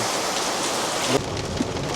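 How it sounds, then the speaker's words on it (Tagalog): Heavy rain pours down steadily in a thunderstorm on the road toward Tanay in the Philippines, a dense, loud roar that cuts to a slightly muffled sound partway through, with a couple of faint knocks and no talk. "Sobrang ulan."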